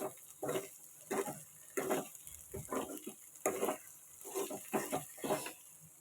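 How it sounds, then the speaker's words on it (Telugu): Cluster beans frying in a pan, a wet sizzle that rises and falls in short bursts about once a second as they are stirred, close by and alone. "గోర్చిక్కుడికాయలు వేసుకొని వేపుకోవడం వేగాలి వేగితే బాగుంటుంది"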